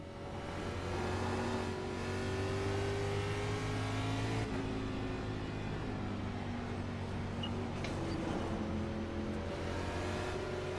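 A light car driven on a race track track day, its engine droning steadily with sustained revving harmonics that shift in pitch as it accelerates and lifts, close and continuous without talk.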